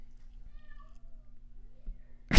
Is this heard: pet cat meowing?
yes